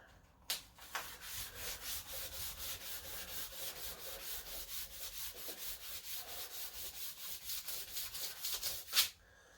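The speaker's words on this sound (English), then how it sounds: "sand until you feel like the sandpaper's not doing anything anymore, and then it's time to go to the next step" Folded sandpaper rubbed by hand along a motorcycle fork tube makes steady, rhythmic back-and-forth rasping strokes, close and even, with a couple of sharper knocks at the start and end and no talk.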